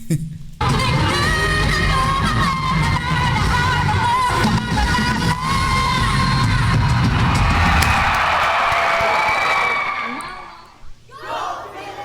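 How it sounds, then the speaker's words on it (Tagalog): A packed crowd at the Araneta arena roars and yells wildly, a loud, sustained wall of cheering, whoops and battle cries lasting about ten seconds before it drops away abruptly, with a few scattered shouts remaining. "Nagwawala talaga yung crowd ng Araneta."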